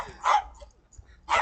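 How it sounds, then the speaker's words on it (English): Little dogs barking: two sharp yips spaced about a second apart, fairly close and loud, with quiet gaps in between. "They bark a bit, but they like barking."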